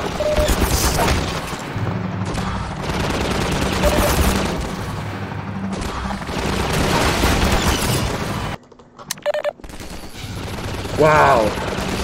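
Half-Life 2 gunfire and booms fill a loud, dense battle mix of repeated shots and impacts, broken by a short near-silent gap before the noise returns.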